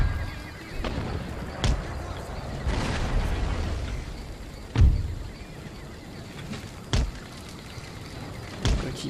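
Cannon bombardment in Empire: Total War, with a series of sharp booms and thuds spaced a second or two apart over a steady battle din, some louder and closer than others.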